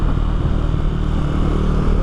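A BMW F900XR motorcycle engine runs loud and close, a steady high-pitched drone with rumbling, revving undertone throughout.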